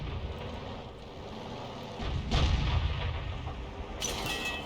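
A tank cannon round fires in a tank video game, a deep booming blast that swells midway and rumbles on, followed by a sharp higher crack near the end.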